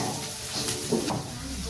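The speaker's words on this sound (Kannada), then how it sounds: "ಇದು ಈರುಳ್ಳಿ ಸ್ವಲ್ಪ ಫ್ರೈ ಆಗೋವರೆಗೂ ಹಂಗೆ ಫ್ರೈ ಮಾಡ್ತಾ ಇರಿ" Onions fry in a pan as a Gobi Manchurian base, giving a dense, continuous sizzle with a few stirring scrapes, loud and close throughout.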